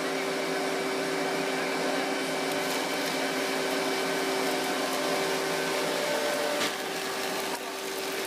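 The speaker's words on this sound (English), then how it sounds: "I think the stuff's getting used to seeing a blender by now." A blender churns paper pulp with water for papermaking, its motor a steady, fairly loud whine with a humming tone that holds throughout, easing slightly near the end.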